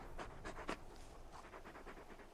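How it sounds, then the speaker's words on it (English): The large dog companion Torgal pants in the video game Final Fantasy XVI, quiet rhythmic breathy huffs, a few stronger ones at first and then softer, quicker panting, with no voices. "You're just a big puppy, aren't you? A very big puppy."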